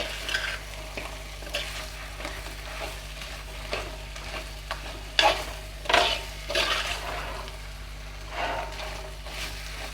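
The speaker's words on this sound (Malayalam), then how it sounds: "നമ്മൾ ക്ലീൻ ചെയ്ത് വെച്ചിട്ടുള്ള ഞണ്ട് ആഡ് ചെയ്ത് കൊടുക്കാം. നന്നായി ഒന്ന് ഇളക്കി കൊടുക്കുക കേട്ടോ." Cleaned local crab frying in a pan as it is stirred. A continuous close sizzle runs under a low hum, with several sharper scraping and clattering stirs around the middle.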